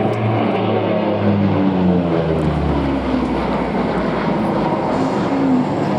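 A Lockheed P-38 flies at the Duxford Flying Legends air show, its engines giving a sustained broad droning roar at some distance, steady and unbroken throughout with no talking.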